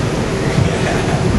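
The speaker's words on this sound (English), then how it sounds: "You see us, we on the train." A 5 subway train running in the Bronx rumbles steadily and loudly from inside the car, with continuous low-end wheel and track noise and no clear voices.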